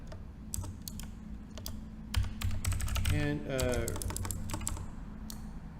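Rapid typing on a computer keyboard during software programming, dense irregular key clicks close by, with a person speaking briefly in the middle over the steady keystrokes.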